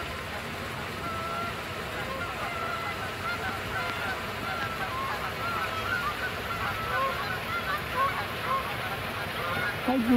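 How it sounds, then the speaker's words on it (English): Geese honk intermittently over a steady background rumble, the calls scattered and moderately distant, with some voices in the mix. "I hear geese."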